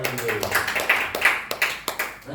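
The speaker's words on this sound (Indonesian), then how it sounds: "Kita beri aplaus kepada Kak Daniel" An audience applauds a speaker at a facilitator training session with a brief patter of scattered hand claps, several distinct sharp claps mixed with a voice.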